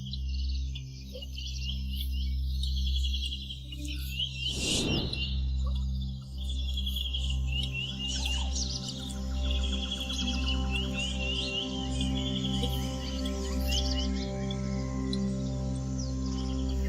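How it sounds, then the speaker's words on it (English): Birds calling in a wetland, with repeated high chirps and whistles over a steady low drone, and a single loud burst of noise around the middle. "birds bring variety and beauty to an already teeming ecosystem"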